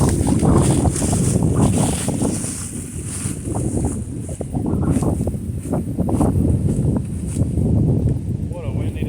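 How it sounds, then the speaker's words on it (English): Strong wind buffets the microphone on a river during a fishing trip, gusting in loud, uneven surges with what may be boat and water noise underneath. "What a windy day."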